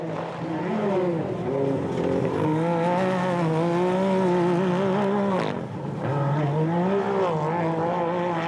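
A BRP Can-Am Maverick rally-raid side-by-side launches off the start line of a W2RC rally stage in Portugal, its engine revving loudly with rising and falling harmonic pitch, a brief shift-like dip midway, then pulling hard again.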